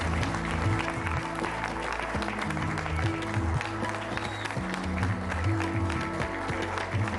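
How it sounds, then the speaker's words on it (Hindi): A studio audience at the News18 Chaupal event applauds steadily to welcome actress Rakul Preet Singh, with the clapping running continuously over loud background music. "तो तालियों की गड़गड़ाहट के साथ स्वागत कीजिए"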